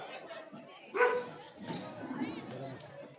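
A dog gives a short bark-like yip amid people talking nearby, the animal sound brief and moderately loud.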